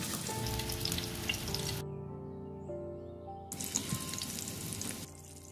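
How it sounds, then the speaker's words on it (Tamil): A burger paratha fries on a low flame, giving a steady close sizzle throughout, with a quieter stretch in the middle before the hiss returns at full strength. "இப்போ இது நல்லா ஃப்ரை ஆகிடுது."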